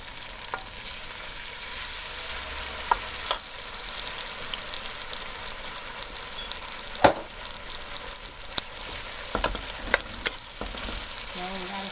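Chopped seasoning frying in a pan for beans and rice, with an even sizzle throughout and occasional sharp scrapes and taps of stirring standing out.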